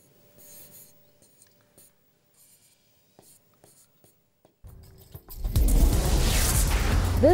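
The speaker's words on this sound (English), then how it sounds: "I write down SOHCAHTOA like this" SOHCAHTOA being written on paper: soft, intermittent pen scratches in short strokes, followed by a sudden loud, rough rustling.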